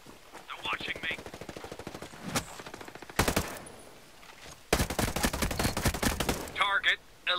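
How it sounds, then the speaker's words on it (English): Enemy gunfire in Ghost Recon Breakpoint: rapid automatic bursts rattle in long rhythmic volleys, loud and close, with brief pauses between strings of shots. "Hostiles are shooting."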